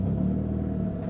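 Deep, loud exhaust rumble from a car fitted with an aftermarket exhaust, a steady close-up drone with no talking.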